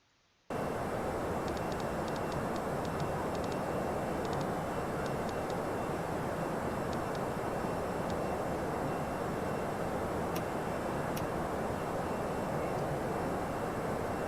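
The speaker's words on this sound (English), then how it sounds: "I love the sound of this engine." EasyJet Airbus A320 engines in the FSX flight simulator roar steadily during a climb, a loud, unbroken broadband drone that starts abruptly after a brief silence, with faint cockpit clicks over it.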